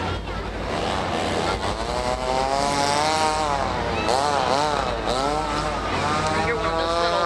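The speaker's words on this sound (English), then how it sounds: "I hear one of those little motorcycles buzzing around out there" A small motorcycle buzzes around at a Halloween parade in Hanover, Pennsylvania, its engine rising and falling in pitch as it moves about, fairly close, over crowd noise and voices.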